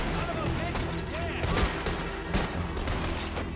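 Rapid gunfire crackles through a Red Dead Redemption 2 shootout, dense overlapping shots against a busy game soundscape, with players talking over the action.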